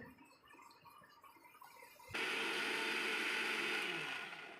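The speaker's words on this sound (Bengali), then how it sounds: "মিক্সারের কাজ" An electric mixer grinder blends raw mango with spices, sugar and cold water, starting abruptly partway through with a loud, steady whirring roar that holds to the end.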